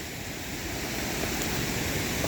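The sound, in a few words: Kearsley Creek water flowing below bridge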